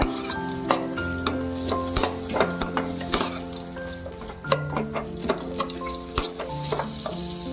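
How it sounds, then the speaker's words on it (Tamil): Raw mango pieces are sautéed in a pan for mango rice: a loud, continuous sizzle with repeated sharp clinks of a spatula stirring against the metal, close by and uninterrupted by speech. "கூடிய மாங்காய் வந்து நல்லா வதங்கணும் அந்த அளவு வதக்கி எடுத்துக்கணும்"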